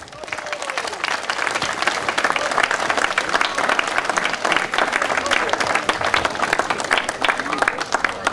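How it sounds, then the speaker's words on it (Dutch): A wedding crowd at a festival in De Panne breaks into dense, sustained applause for the bride and groom, loud and continuous, with a voice speaking over the start. "En dan misschien onder een daverend applaus, bruid en bruidegom, Isabel en Michael."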